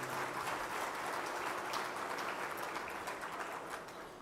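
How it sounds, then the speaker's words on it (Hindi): Dense, steady applause from a large crowd welcoming guests at a Sir Syed Day gathering in Jeddah, a continuous roar of many hands that tapers slightly toward the end. "इन तमाम मेहमानों का मैं चाहता हूँ आप लोग ज़ोरदार तालियों से खैर मक़दम करें"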